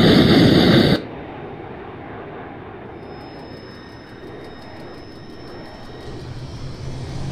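Military aircraft engines on a runway begin spooling up for takeoff, a broad steady roar with a thin rising whine after a loud burst of radio noise cuts off at the start.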